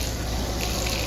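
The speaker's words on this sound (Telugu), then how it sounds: "పోసుకో నీళ్ళు ఇంకా" Water pours in a steady, close, continuous gushing stream like a running tap, alone without talk for about a second.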